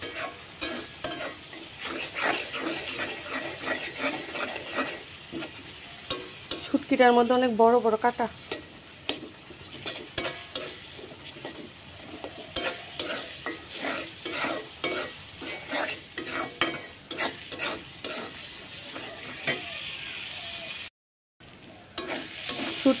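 Dried shutki fish from Cox's Bazar frying and being stirred in oil, with a continuous sizzle and frequent rhythmic scraping of the utensil against the pan, a brief louder burst midway, and someone speaking at one point.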